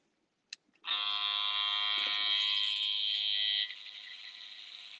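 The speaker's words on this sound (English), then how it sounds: "So I will use my trimmer and the comb to create" Electric hair trimmer buzzing steadily and loudly close up for several seconds after a brief click, then continuing a little quieter as it cuts hair at a barber's.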